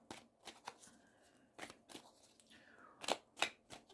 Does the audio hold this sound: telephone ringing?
no